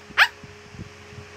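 A single short, sharp dog bark rings out near the start, followed by soft low sounds and quiet background noise.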